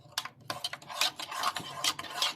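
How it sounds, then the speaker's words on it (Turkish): A spoon stirs coffee and sugar in an Arçelik Telve cezve, making quick close scraping and clinking strokes in an irregular rhythm. "arçelik telvenin cezvesini karıştırıyoruz"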